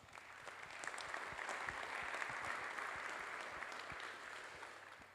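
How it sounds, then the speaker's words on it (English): A crowd at a San Joaquin County Board of Supervisors special meeting bursts into steady, sustained applause, dense clapping holding at an even level for several seconds with no one talking over it. "you give yourselves a round of applause"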